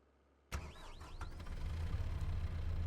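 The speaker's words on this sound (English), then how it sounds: "Engine sounds great." Kubota tractor engine in Farming Simulator 22 starts abruptly with a sharp burst and settles into a steady, loud, low idle rumble that grows slightly stronger, with a few whining tones sweeping over the start.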